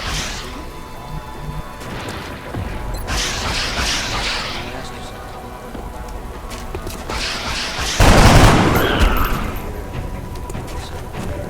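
Soldiers' weapons firing in XCOM: Enemy Unknown, with sharp cracking bursts of gunfire standing out over steady game ambience, the loudest shot landing late and trailing off.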